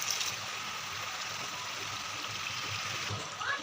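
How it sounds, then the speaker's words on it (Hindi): A thin stream of water trickles and pours into a pan of frying masala for an eggplant curry, a soft steady hiss and faint sizzle heard close by without talk. "साथ ही हम इसमें ऐड कर देंगे थोड़ा सा पानी"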